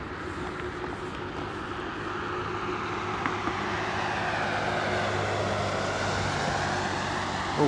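A Polar Boeing 747 jet taxis on the airport ground, its steady engine roar sitting at a distance and swelling gradually louder over several seconds, with no voices present.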